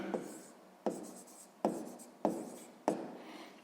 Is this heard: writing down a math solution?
yes